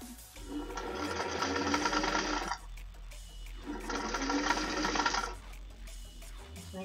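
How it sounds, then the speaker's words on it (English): A home sewing machine with mechanical issues stitches a larger-sized fabric face mask in two loud bursts of rapid whirring, each lasting a second or more, separated by a short pause. "My sewing machine has issues, I'm not sure how to fix."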